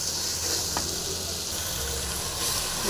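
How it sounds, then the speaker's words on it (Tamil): Lentils, tomato and chopped spring onion fry in a pan with no water added, giving a steady close sizzle and hiss that runs evenly throughout without any talk. "நல்லா ஃப்ரை ஆகட்டும். தண்ணிலாம் ஊற்றாதீங்க."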